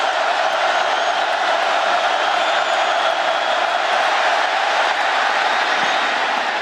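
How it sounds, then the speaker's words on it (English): A football stadium crowd at a college game between West Virginia and Norfolk State roars loudly and continuously, forming a dense, unbroken wash of noise with no distinct pauses. "the crowd making it hard to hear as Wally's trying to change the play"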